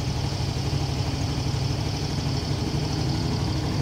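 A Yamaha Mio Fino scooter engine, freshly fired by a keyless auto-starter, idles with a steady low putter, moderately close and fairly quiet, with no talk.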